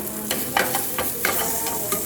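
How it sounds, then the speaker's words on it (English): Spices frying in hot oil for a corn curry are stirred in a pan, with a steady sizzle broken by regular scraping strokes of the spoon about every half second. The sound is close and moderately loud, with no talking. "and I'm going to stir it."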